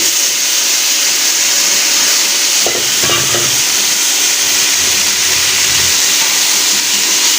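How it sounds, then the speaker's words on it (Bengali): Cauliflower and potato pieces fry in fish oil with a steady, loud hiss and crackle that runs the whole time, and a few utensil clinks and stirs come through near the middle. "ফুলকপি আর আলুটাও আমি খুব সুন্দর করে ভেজে নেব"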